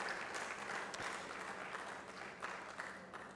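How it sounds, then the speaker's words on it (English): Audience applause at the launch event of a data science program in Uganda, a continuous wash of many hands clapping at moderate distance, fairly quiet and slowly tapering toward the end. "So another round of applause,"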